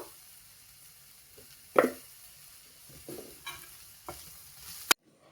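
Beetroot palya is stirred in a pan over a soft, constant sizzle, with a few scattered scrapes and knocks of the spoon and one sharp clack near the end.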